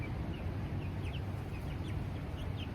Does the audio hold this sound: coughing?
no